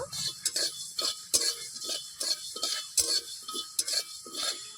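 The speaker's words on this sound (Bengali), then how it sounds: "হাতে নাড়াচাড়া করে একটু ভেজে নেব" White mustard seeds being dry-roasted in a wok and stirred produce a rhythmic series of scraping, rattling strokes, close and evenly repeated.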